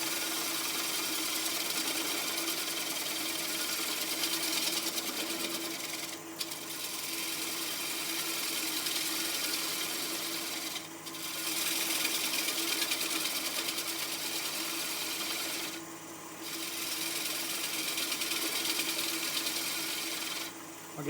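Wood lathe cutting away a wooden tenon with pull cuts toward the headstock, a continuous close whirring hum broken by three brief pauses as the tool lifts.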